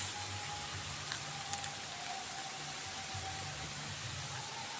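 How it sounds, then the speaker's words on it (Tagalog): Steady rain falls on a farm as an even, hissing wash that does not let up, with a faint low hum running beneath it and no voices. "Mga kababayan ulan na naman."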